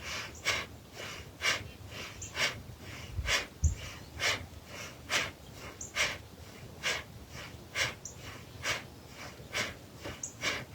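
Forceful rhythmic exhales during a yoga breathing practice, about a dozen sharp nasal bursts at a steady quick pace, fairly close and moderately loud with no talking over them.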